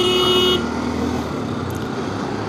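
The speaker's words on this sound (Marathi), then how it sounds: "हॉर्न किती पण मारा, का ऐकणार नाही" A car horn sounds on a busy road, one loud sustained honk in the first half-second, then steady traffic rumble and engine noise continue without further honking.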